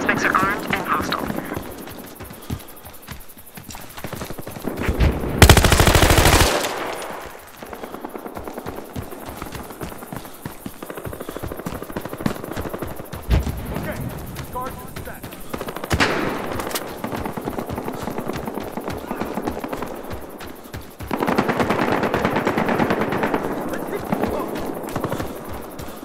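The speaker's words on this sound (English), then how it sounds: "All units, you're green to open fire." Gunfire from armed units opening fire on hostile suspects, with bursts of loud shots and rapid machine-gun-like cracks scattered among radio-style talk and background rumble.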